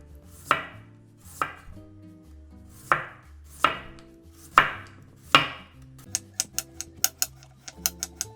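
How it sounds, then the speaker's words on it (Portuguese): A knife chops radish on a cutting board for kimchi: six spaced, crisp thuds, followed by a quicker run of sharp, light taps, close and clear with no voices. "Vou cortar o nabo agora."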